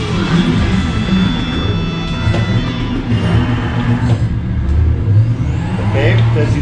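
A racing video game car engine roars continuously and loudly, revving and shifting over steady road rumble, played on a Fanatec CSL DD Pro GT steering wheel.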